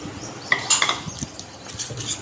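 A metal spoon stirs ginger garlic paste and onion in a pot, with clinks and scrapes against the sides in short irregular bursts, close by.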